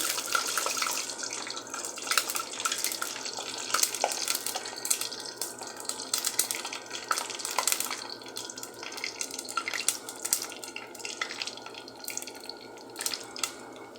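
Mustard, fenugreek and cumin seeds crackle in hot oil for a raw-jackfruit kuzhambu: a close, steady, dense sizzle with scattered sharp pops running throughout, with no voices.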